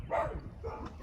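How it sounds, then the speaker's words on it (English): A single short, muffled bark from a dog at a house comes through briefly at moderate distance, with low background rumble and no talking. "Oh, who's she barking at?"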